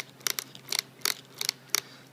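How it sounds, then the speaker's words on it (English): A broken micro servo with damaged internal gears gives five short, sharp grinding clicks in uneven bursts, close and fairly quiet, with no talking. "if you think you have a broken servo, it might sound like this."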